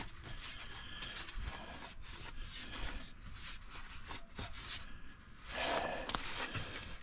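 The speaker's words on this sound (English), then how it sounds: "our idler pulley's coming off. And it's been hitting the back of our fan" A loose idler pulley on a wrecker truck knocks against the back of the engine fan, giving a steady scraping, rasping rub with a harsher stretch near the end, fairly close and with no talk.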